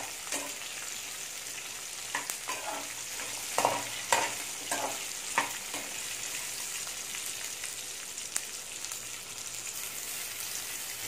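Kurma masala ingredients for a raw jackfruit kurma dry-roasting in a pan, giving a soft continuous crackle with a run of sharp scraping stirs near the middle, close and fairly quiet.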